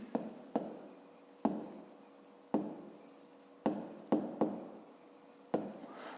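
A pen or chalk writes in a fifth-grade maths lesson, with short scratchy strokes that start sharply and fade, several separate bursts with brief pauses between them and no talk.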